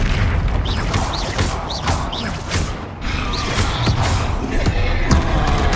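The Confringo fire spell exploding during a troll fight in the Hogwarts Legacy video game: a loud, dense run of booming blasts and clanking impacts, one after another, over a busy game soundtrack.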